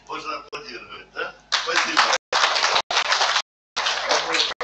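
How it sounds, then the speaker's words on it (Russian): Dense applause from a lecture audience after a talk on ancient DNA, starting in loud bursts broken by short silent cuts, with some talking and laughter before it. "Можно аплодировать"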